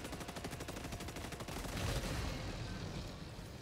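Rapid, evenly spaced automatic gunfire in the video game Helldivers 2 is followed by a rougher, noisier stretch of combat. The shots are fairly quiet and blend into the game's background.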